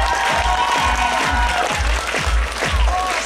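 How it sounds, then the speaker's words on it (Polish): An audience at a gala breaks into continuous applause for a woman being thanked on stage, a dense wash of clapping with a few louder, closer claps standing out. "Wielkie brawa dla niej."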